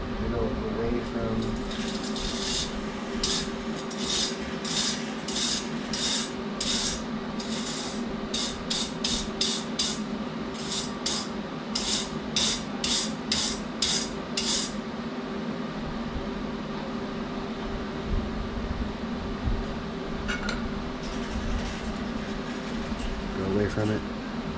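A wire brush scrubs a stainless steel exhaust joint on a turbo C10 build, a rapid burst of rhythmic rasping strokes over a steady hum, close, then continuing background noise.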